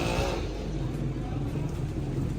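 Noisy street traffic with many motorcycles in a busy city, a steady close rumble of engines and passing vehicles throughout.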